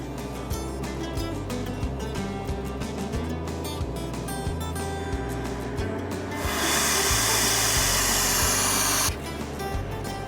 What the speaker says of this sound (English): the job of the freeze dryer is to pull the moisture out of the stuff